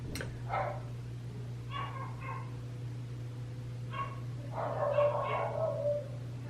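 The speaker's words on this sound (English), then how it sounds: "Can you hear the dogs barking?" Dogs bark several times at a distance from inside a home during a quarantine day, giving short separate bursts over a steady low electrical hum.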